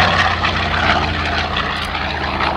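A Swiss-based Grumman Avenger propeller aircraft roars steadily and loudly at an air show, its engine drone dense and continuous without voices.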